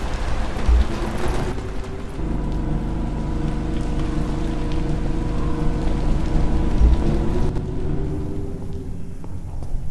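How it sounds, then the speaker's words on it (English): Rain in the sci-fi horror video game Stasis: Bone Totem makes a steady, dense wash with a low rumbling undertone that holds throughout. "Be out of that rain."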